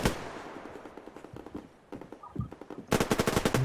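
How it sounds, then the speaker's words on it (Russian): Rapid automatic gunfire in the video game Survarium, a dense close burst of sharp shots at the end following scattered quieter shots and action noise, with no talking. "Не знаю я, куда я стрелял только что"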